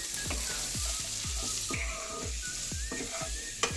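Mixed vegetables sizzle in a hot pan with salt, turmeric and chilli powder, a steady close frying hiss broken by repeated scraping strokes of a spatula stirring them, with no talking.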